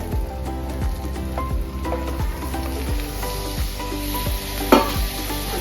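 Mutton drops into a pan of fried ginger-garlic, a loud, dense sizzle with crackling pops and a sharper burst near the end.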